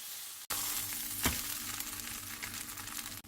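Minced meat for tortilla burgers fries in a pan with a steady, close sizzle that carries on throughout, briefly cut off near the start, with no voices.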